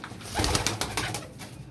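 A teddy pigeon cooing close by, a short series of soft, throaty pulsing coos, fairly loud and alone with no voices.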